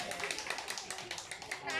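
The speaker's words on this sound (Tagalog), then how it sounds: "Maraming palakpak" Brief burst of brisk clapping from a small group at a contest, steady and fairly close, with voices talking over it.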